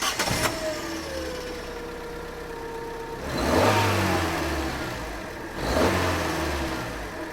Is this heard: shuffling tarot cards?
no